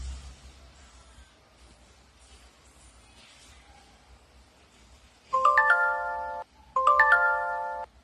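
An incoming-call ringtone sounds on a live streaming earning app: two bursts of a bright chiming melody, close and clear after a quiet stretch.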